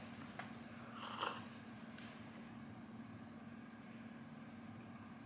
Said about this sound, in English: I am doing the chewing action